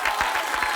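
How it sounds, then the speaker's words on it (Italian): A television studio audience in Italy claps in a brief, dense burst that stays steady and loud throughout. "C'è Ligabue, uno uguale a Ligabue che applaude così"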